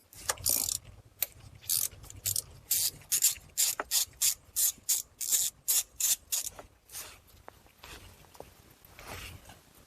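A hand ratchet loosening T25 Torx transmission filter screws on a Chrysler Town and Country or Dodge Caravan 62TE transmission, with rapid bursts of close clicking in a quick, regular rhythm.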